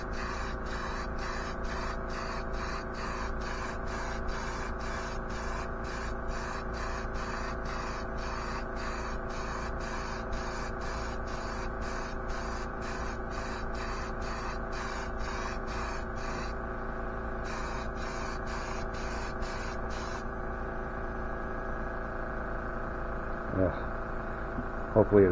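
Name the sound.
spraying satin clear coat paint onto exhaust pipe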